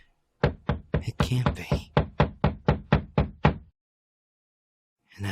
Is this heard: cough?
no